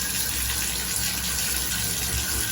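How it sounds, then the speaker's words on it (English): Tap water runs steadily into a bathtub with a clogged drain, a continuous close, broadband rushing gush with no talk over it. "Let's run the water just a little bit more."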